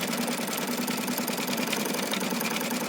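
Sewing machine stitching the base of a lace brooch, a rapid steady buzzing hum of the needle running continuously and close up with no pauses.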